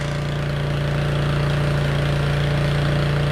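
Small MTD snowblower engine, newly running after its dirty carburetor was cleaned, idling at a steady, even chug with a constant hum, close and loud for the whole stretch.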